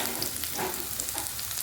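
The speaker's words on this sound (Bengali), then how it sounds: "তেলটা গরম হওয়ার পর পেঁয়াজ দিয়ে দিলাম, পেঁয়াজটা একটু ভাজতে থাকবো" Chopped onion sizzles in hot oil in a pan, a brief continuous hiss broken by a couple of soft stirring scrapes.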